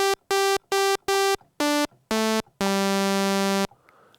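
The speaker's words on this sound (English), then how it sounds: "This is just one oscillator with a sawtooth wave with an opened filter." Single-oscillator sawtooth synth voice through an open 12 dB filter on a Delta CEP A V2 sequencer, playing four short identical bright buzzy notes, then two lower ones and a final long held note, loud and close.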